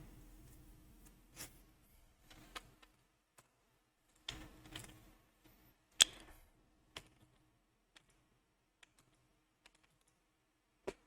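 Sparse keystrokes and shortcut presses on a computer keyboard, quiet close clicks spaced irregularly with occasional short clusters, in a still room.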